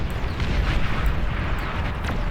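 Nuclear explosions go off in the real-time strategy game Beyond All Reason. Dense, continuous booming rumble and crackling blasts overlap without pause, loud and close.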